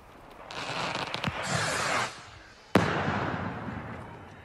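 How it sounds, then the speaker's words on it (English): Fireworks set off by Carlisle football fans outdoors in the evening: a hissing burst followed by a sharp crack and a lingering crackle, fairly faint and distant. "Some Carlisle fans through the evening set off multiple fireworks"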